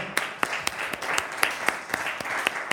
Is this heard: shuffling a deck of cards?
no